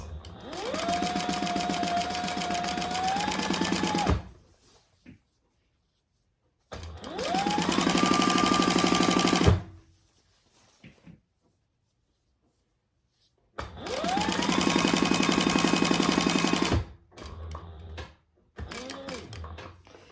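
Sewing machine stitching a seam that joins two fabrics while making piping: three long, loud, close bursts of fast rhythmic needle whirring, each ramping up and cutting off, separated by short pauses, with a brief fourth start at the end.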